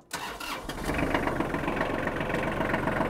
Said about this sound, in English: Let me start the engine and show you that with the engine on.